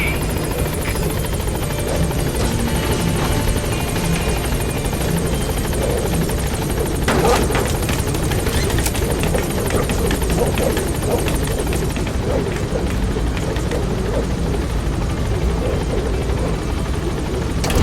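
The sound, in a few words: B-Quad support helicopter arriving, from video game Metal Gear Solid V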